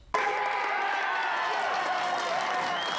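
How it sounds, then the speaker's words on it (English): Boisterous Emus supporters roar in a sustained cheer at a home grand final, a loud, dense crowd wall with applause mixed in that holds steady for the full length without easing. "A resounding cheer to celebrate another home grand final."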